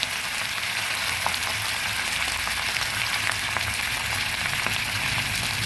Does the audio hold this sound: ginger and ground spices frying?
yes